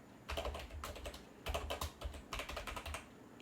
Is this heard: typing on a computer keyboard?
yes